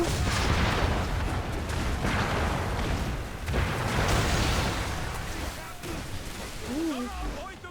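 Chain shot cannon fire booms from a ship attacking Fort Phoenix in Assassin's Creed III, heavy rumbling blasts rolling one after another, loud and close, with game noise and a voice over them.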